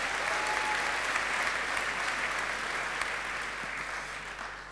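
Audience at a talk show, held as part of a children's conference, claps steadily in a continuous wave of applause that stays even and fairly loud, slowly thinning toward the end.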